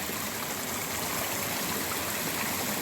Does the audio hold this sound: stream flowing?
yes